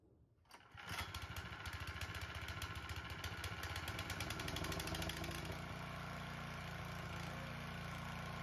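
A small lawn mower engine sputters to life, then runs steadily and loudly at a constant rev with a rapid, rattling chug.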